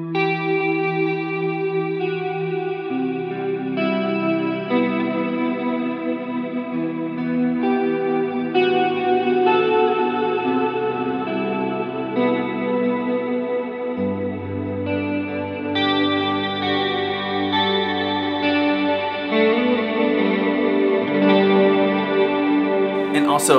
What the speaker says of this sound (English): This is the Jet Revelation, MIDI version, blackout version, on the mod setting with the mod at about